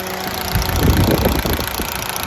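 A Toyota Altis running on CNG idles roughly with a shaking engine, giving a low, uneven rumble with irregular knocking pulses, close and steady throughout.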